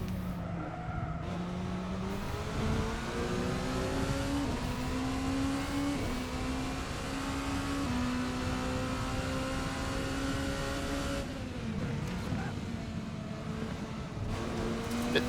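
A sim racing car engine in a video game revs and upshifts a little too early, its pitch climbing and dropping at each gear change, with tyre squeal mixed in over a sustained, steady drone.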